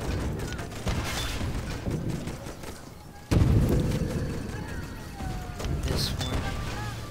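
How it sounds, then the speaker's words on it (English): Cannons fire in the video game Toy Soldiers amid a dense battle mix, with one heavy booming blast landing midway and continuous rumbling, mechanical clatter and alarm-like tones around it. "They're cannons now."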